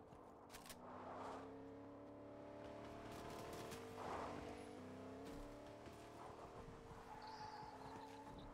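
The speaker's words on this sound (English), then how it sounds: "I hear a car." Car engine driving through a Fortnite game match, a steady rumbling motor sound with shifting pitch running throughout, faint game effects and possible distant gunfire mixed underneath.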